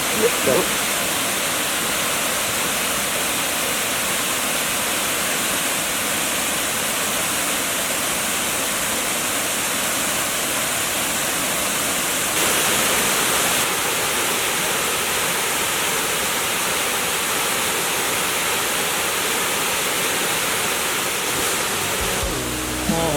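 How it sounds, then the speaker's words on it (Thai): Huai Mae Khamin waterfall in Thailand roars steadily and loudly throughout, a constant dense rush of falling water with no break. "ว่าน้ำตกห้วยแม่ขมิ้นสวยอย่างไร"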